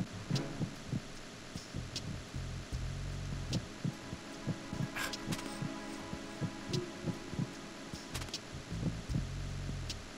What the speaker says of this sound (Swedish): Hjärtslagen.